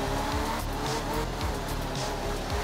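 A rally car in the video game Art of Rally, a Group 2 car from the late 1960s, drives continuously with a steady engine drone and bursts of tyre noise from gravel, heard alone.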